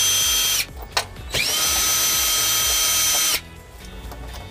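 Power tool (drill/impact driver) removing the passenger-side bolts during trailer wiring installation on a 2017 Hyundai Elantra; two loud sustained whirring bursts with a short trigger blip between, close by, with no talk.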